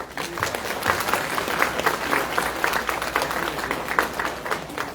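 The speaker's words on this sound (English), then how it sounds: "I would like all of you to join me in a round of applause for my brother Bong and Nyam Bong" A graduation-style audience gives a steady round of applause, many hands clapping at moderate volume in a continuous, slightly uneven wash with no speech.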